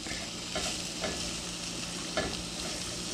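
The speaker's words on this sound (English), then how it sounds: "you can probably hear it sizzling right now" Smoked sausage sizzling in a cast iron skillet, a steady frying hiss with a few soft stirring clanks scattered through, no talk.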